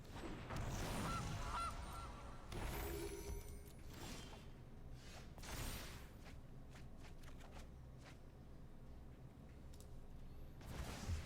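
A Gilded Goose card in the video game Magic: The Gathering Arena honks, a faint digital goose call mixed with soft card-shuffling and interface clicks over a quiet game background.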